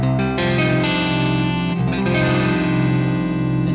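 Electric guitar through a Seymour Duncan Jupiter Rails neck pickup in split mode, strummed as a loud, sustained, slightly driven chord that rings on with brief pick attacks and no talking.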